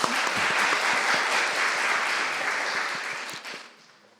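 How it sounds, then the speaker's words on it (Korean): A church congregation applauds during a Sunday worship service to welcome a visiting pastor, producing steady, dense clapping from many hands that holds evenly for several seconds, then tapers off and fades out. "박수로 우리 환영하도록 하겠습니다."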